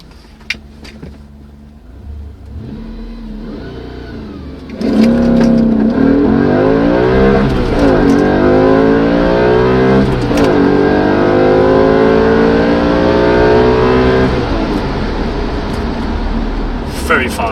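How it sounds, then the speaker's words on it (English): A 2007 Audi RS4 B7 accelerates hard with a loud, rising engine roar through several gears, with short exhaust pops between shifts, recorded from inside the car while people talk. "Very nice pops from the exhaust."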